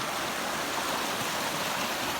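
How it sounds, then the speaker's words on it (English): Rain-swollen Eastern Kentucky creek running high behind a house, a steady, dense rushing roar of floodwater that fills the whole clip without break, with no voices. "this is the creek behind my house"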